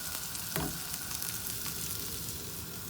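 Dosa batter frying crisp on a large pan over high heat, a loud, dense, continuous sizzle close up, with one brief scrape or tap early on.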